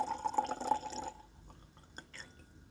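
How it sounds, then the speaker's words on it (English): A 2-ounce sample of 13th Colony Double Oaked bourbon being poured, a close trickling splash of liquid for about a second that trails off into quiet handling noises. "we're going to pour up this 2-ounce sample"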